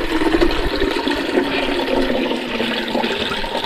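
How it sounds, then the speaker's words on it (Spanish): Milk poured into a small pot set over a wood fire, a continuous loud splashing, gurgling stream of liquid lasting several seconds without pause. "Voy a poner esta ollita a la lumbre. Le voy a agregar la leche."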